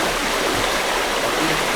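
A river flows steadily in a jungle setting, a dense, continuous rushing and gurgling of water, close and fairly loud with no voices.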